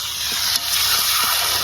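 Desi chicken meat sizzles loudly in a pan after onions have been fried, a dense, constant hiss close by with no pauses and no talk.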